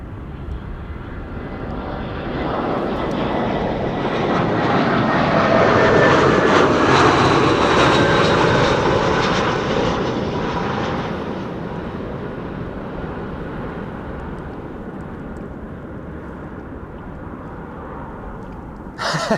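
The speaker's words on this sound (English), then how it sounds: "UR Airlines arriving from Erbil in Iraq." A jet airliner arriving at Amsterdam Schiphol on a windy day approaches and passes overhead, its roar swelling to a loud peak then fading into a distant rumble, with no talking.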